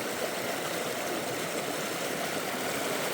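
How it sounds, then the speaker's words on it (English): A creek feeding the Poudre River flows steadily while camping in Colorado, a continuous broadband rush of water that holds an even level throughout, close and unbroken, with no voices. "It's a creek or a crick or a creek."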